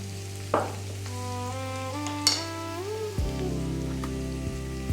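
Grated carrot and onion fry in a pan with a steady soft sizzle, broken by a few clinks and scrapes. Faint steady tones run in the background.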